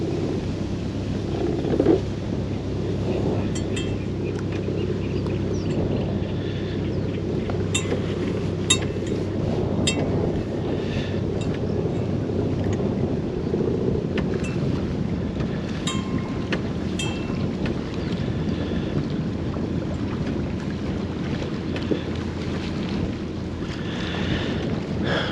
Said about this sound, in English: Oh man, ain't that wind?